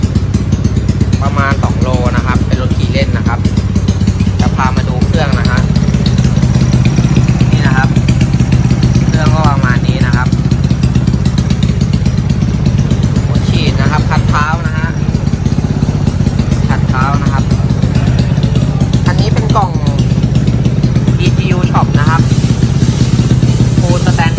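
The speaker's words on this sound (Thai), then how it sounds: "พามาฟังเสียงเครื่องนนะครับ คันนี้เป็นท่อดังนะครับ เพราะว่าท่อรอผ่าอยู่นะครับ" A fuel-injected Honda Wave 125 with a foot clutch and an open, loud exhaust runs steadily close by, its deep throbbing engine note continuous throughout, with brief higher chirps rising above it now and then.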